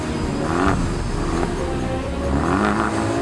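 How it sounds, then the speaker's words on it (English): A 2014 Volkswagen Polo R engine roars loudly and steadily, with rising rev swells near the start and again near the end, and no voices over it. "The humongous roar it makes and the performance it delivers."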